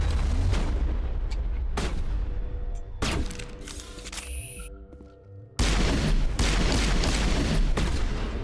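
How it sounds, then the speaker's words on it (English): Explosive shot fired in Mass Effect: repeated sharp, loud blasts in close succession, each with a brief booming tail, with a short quieter stretch holding a high whine before the firing resumes. "Where's my explosive shot?"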